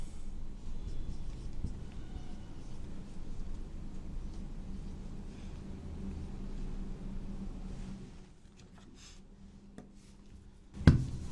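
Marker or chalk writing on a board during a chemistry lesson, soft scratchy strokes over a steady room rumble, with a sharp knock near the end.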